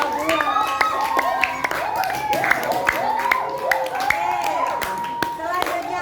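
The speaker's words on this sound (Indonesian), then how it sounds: "tepuk tangan untuk kelompok 2" A fifth-grade class claps for a group in an elementary school classroom. Scattered, uneven hand claps come from the children, and their high-pitched voices chatter and call out over the clapping.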